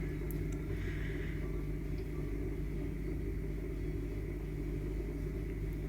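A Hotpoint HE7L492 washing machine on its cotton program spins at 1400 rpm, giving a steady, loud, unbroken hum and rumble with a constant motor whine throughout.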